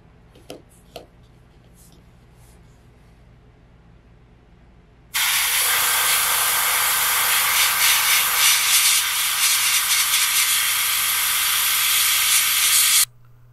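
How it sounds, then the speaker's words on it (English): Airbrush spraying Tamiya flat yellow paint onto a model Enterprise 1701-D, heard as a sudden loud, steady hiss that lasts about eight seconds after a few quiet clicks, then stops abruptly. "we're going to airbrush it with a Tamiya flat yellow"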